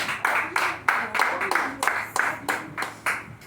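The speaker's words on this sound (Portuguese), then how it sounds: "E as palmas é para Jesus." A church congregation claps together at a service, a steady run of sharp, bright hand claps in a loose rhythm about three times per second, close and fairly loud, with faint voices underneath.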